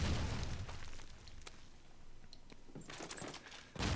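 Grenade explosion in a competitive first-person shooter match: a booming burst at the start settles into a low rumble, followed by a few sharp cracks and a second burst near the end, quite faint overall.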